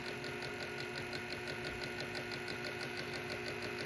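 A GM HEI-distributor engine is pulled up to just under 800 RPM and held at a steady, fast-ticking idle, a quiet, even mechanical chatter with a faint high whine and no voices.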